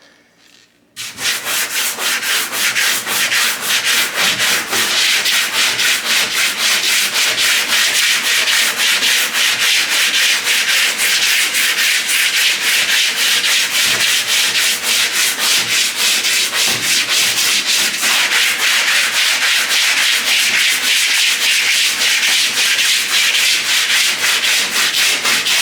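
Bondo body filler being sanded with a hand sanding block, heard as a loud, continuous rhythmic rasping of rapid back-and-forth strokes that runs steadily on its own after a brief quiet start.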